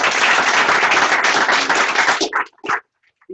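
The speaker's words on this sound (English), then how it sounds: "Can we give these folks a round of applause?" A dense round of audience applause at a spring student showcase, loud and continuous, then breaking off abruptly into a few scattered final claps and near silence.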